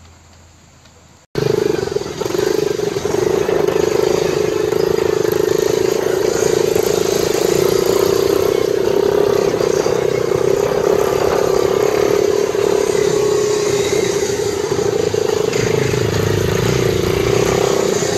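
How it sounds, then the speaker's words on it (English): A dirt bike ridden on a track out back, a loud sustained engine drone that starts abruptly and holds steady with slight rises and falls in revs, close and continuous throughout. "a little clip from the dirt bike track out back"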